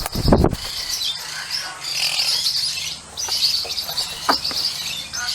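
A young female eclectus parrot gives harsh, raspy calls and squawks close by, in short repeated bursts over a noisy background.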